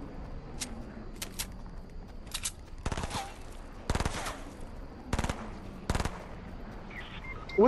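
Sharp bursts of automatic gunfire from opponents in the Fortnite video game, several short volleys spaced a second or so apart, fairly distant and moderate in level over a quiet game background.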